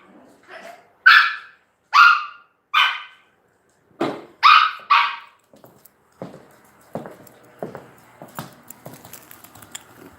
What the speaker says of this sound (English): Puppies are arguing over the leftover paper towel that I forgot to clean up